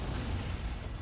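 Video game explosions form a dense, sustained low rumble that stays loud and steady throughout, with no clear individual blasts standing out.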